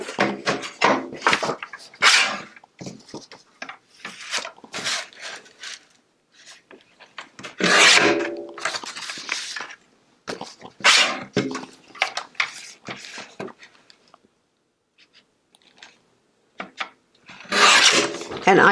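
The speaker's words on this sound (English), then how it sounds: "then I will trim out the rest of it" Recycled card paper being trimmed, heard as scraping, rasping cuts and rubbing in uneven bursts with gaps, close and fairly loud, with no clear talk.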